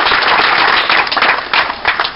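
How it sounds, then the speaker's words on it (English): An outdoor crowd at a gun violence prevention legislation announcement in Paterson breaks into loud, dense applause, with claps and swells running throughout. "Let's give Bill Pascrell a big round of applause."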